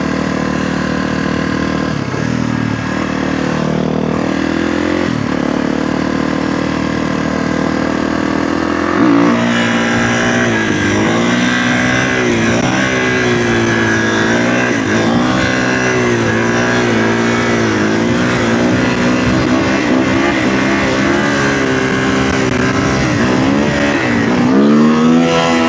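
A dirt bike engine idles steadily, then revs repeatedly in rising and falling surges on an empty road, loud and close throughout with no talking.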